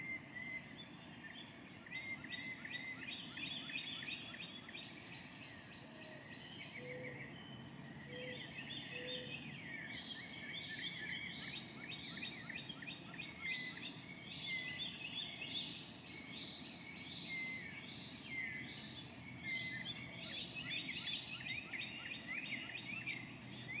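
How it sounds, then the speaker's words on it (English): Birds call outdoors on a quiet morning, with cooing morning doves and a blue jay giving faint, repeated chirps and notes over a soft background hiss. "Oh, and the morning doves are singing."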